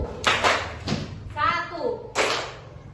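A classroom of fourth-grade pupils claps together in a rhythmic pattern, with two loud bursts of clapping separated by a voice speaking in between.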